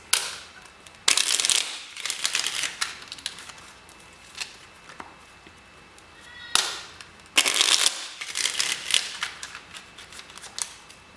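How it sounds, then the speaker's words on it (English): Tarot cards are shuffled in two loud riffling bursts, separated by quieter rustling and handling noises, close up and with no talking. "One more shuffle."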